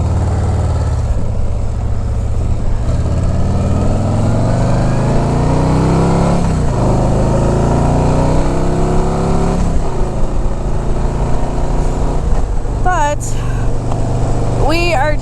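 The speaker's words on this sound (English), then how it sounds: "Crossing four lanes of traffic at 60 miles an hour." Steady road traffic roars past at about 60 miles an hour across four lanes, a loud continuous engine and tire rush from inside a car, with a few brief squeaky sounds near the end.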